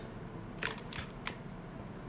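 A weapon reloads in CS:GO, a quick run of three sharp mechanical clicks and clacks over a low, quiet background hum.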